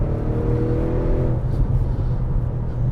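A 2017 Audi RS6 Performance's engine revs up hard to about 5,000 RPM with a rising, loud roar close by, then drops back to a deep rumble.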